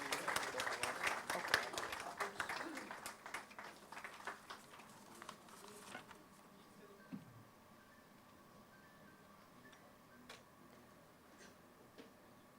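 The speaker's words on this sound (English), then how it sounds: "A huge round of applause." Scattered clapping from an audience welcoming a speaker at a talk rises briefly, then thins out and fades to a quiet room with a few stray claps.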